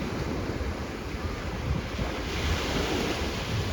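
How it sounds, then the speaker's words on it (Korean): Continuous roar of ocean surf churning under strong wind buffeting the microphone at a beach in Jeju, South Korea, steady and loud throughout. "바람 부니까 물이 파도가 갑자기 세졌어요."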